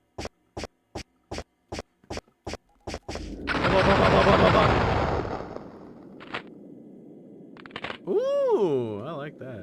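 Video game gunfire cracks out as a rapid series of about nine sharp, evenly spaced shots, then a long roaring blast and a few later clanks, ending with a swooping electronic tone.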